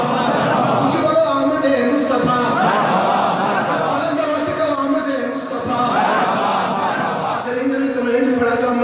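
Crowd at a Mehfil-e-Milaad gathering in a Bradford mosque chanting the slogan Aamad-e-Mustafa Marhaba, with loud, rhythmic voices rising and falling in repeated phrases.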